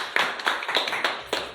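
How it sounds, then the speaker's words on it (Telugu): A handful of children clap at an anganwadi learning session, a few scattered, uneven claps in a quiet indoor room with no talking. "క్లాప్స్ కొట్టండి అందరూ."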